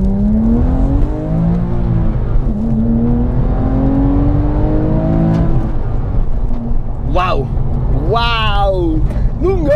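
Porsche 997 GT3 with manual gearbox accelerating hard, engine revving and climbing through the gears in repeated rising sweeps, heard from inside the car under steady road and wind roar, with a sharp high rev near the end.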